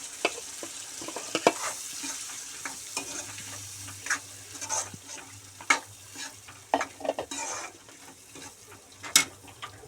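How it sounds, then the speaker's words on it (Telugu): Sambar ingredients fry in a pan at home as cooked dal is added, with a steady soft sizzle broken by sharp clinks and scrapes of a spoon stirring, close and moderately quiet. "ఇలా కొద్దిగా పచ్చివాసన పోయే వరకు కొద్దిగా ఫ్రై చేసుకోవాలి."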